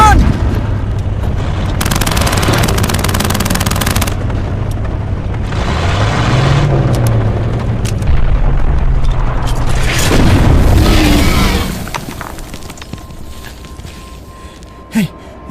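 Loud, dense battle sound from a World War II film about Panfilov's 28 men, with booming blasts and bursts of gunfire rolling on for about twelve seconds before tapering into quieter rumble and a final sharp crack.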